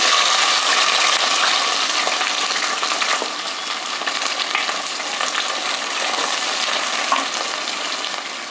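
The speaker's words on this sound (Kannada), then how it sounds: "ಸಾಸಿವೆ ಸಿಡಿದಿದೆ ಈಗ ಕರಿಬೇವಿನ ಸೊಪ್ಪು ಹಾಕ್ತೆ" Curry leaves hit hot oil with popping mustard seeds, giving a steady, loud sizzle and crackle that continues without pause, close up and with no voices over it.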